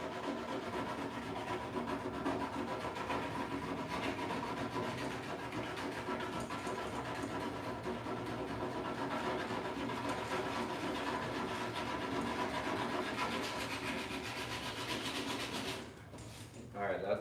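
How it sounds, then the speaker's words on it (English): Sandpaper working inside a dent on a truck tailgate, prepping bare metal for body filler: a steady, close, continuous scraping rasp that runs without a break, then stops briefly near the end. "you have to go in here, curl that thing up, even if it's a dent, and sand within that dent"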